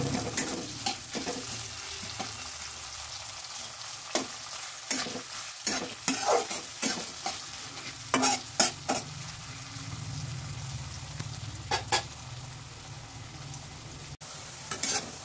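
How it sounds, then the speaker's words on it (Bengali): A large chopped onion fries in oil in a pan, a soft continuous sizzle up close punctuated by repeated scraping and knocking strokes of a spatula stirring it; no speech. "পেঁয়াজটা ভালো করে ভেজে নিয়ে"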